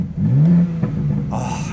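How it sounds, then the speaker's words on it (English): Exhaust of a 2026 BMW M2 CS revving once: a short, loud, deep engine blip rising and falling, heard close up from inside the car, followed by a brief mechanical clatter. "it's a real exhaust noise"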